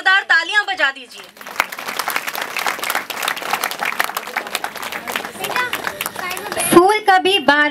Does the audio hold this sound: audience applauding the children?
yes